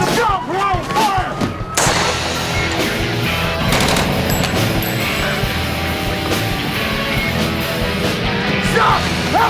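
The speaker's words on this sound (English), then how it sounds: "Shots fired!" Rapid, loud gunfire rattles nonstop through a movie shootout, with bursts of automatic fire layered over shouting voices and dense crashing action noise.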